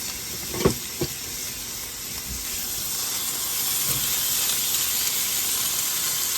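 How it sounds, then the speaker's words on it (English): Beef sizzles and fries in a hot pan with no sauce or seasoning, a steady broadband hiss that swells and stays loud, with a few soft clinks of utensils near the start. "We're just going to go ahead and put the beef in, do a quick fry on all of it."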